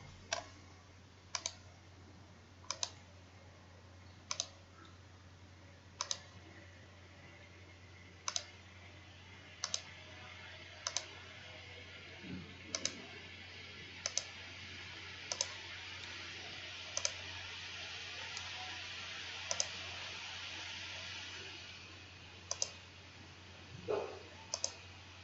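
A computer mouse clicking steadily while working in STAAD Pro, crisp single clicks roughly every one to two seconds, close and distinct over a faint steady hum.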